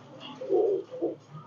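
Pigeons, imported Kalshira Teddy birds in a Dhaka loft, give a soft, low, close coo in two short phrases with a quiet background.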